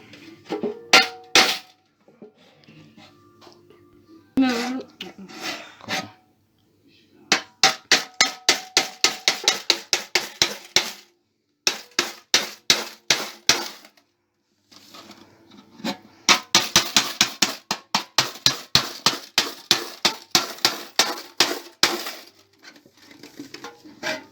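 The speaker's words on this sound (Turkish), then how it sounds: "Şimdi kumbarayı patlatacağım." A coin-filled piggy bank is broken open with repeated sharp cracking blows, loud and close, in bursts of rapid strikes separated by short pauses.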